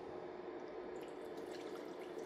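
Liquid poured back into a pot while cooking Cantonese roast duck, a steady, soft, continuous trickle and splash without a break.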